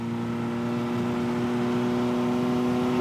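A steady engine drone holds a constant pitch with faint wavering, as if bouncing off a rev limiter while the vehicle strains to gain speed; loud, continuous and close, with no talk over it.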